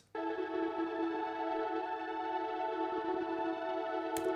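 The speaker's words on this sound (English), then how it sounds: "The same one pad and the arpeggiator from the intro come back in" A sustained synth pad holds a steady chord while an arpeggiator runs softly beneath it, a smooth continuous drone at moderate volume with no voices and a brief click near the end.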